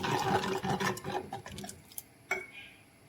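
Tamarind curry being stirred in a cooking pot, liquid sloshing and swishing in quick close strokes, with a few sharp knocks of the spoon against the pot near the end.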